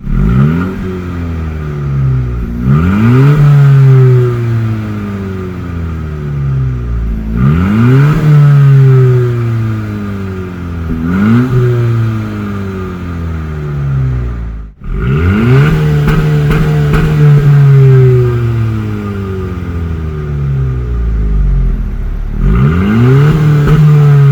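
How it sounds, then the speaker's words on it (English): A 2016-2021 Honda Civic Si coupe with a Thermal R&D front pipe and catback exhaust, revved repeatedly: loud rising blips over a steady idle, about six pulls spaced a few seconds apart, with no talking. "So we'll go ahead and rev."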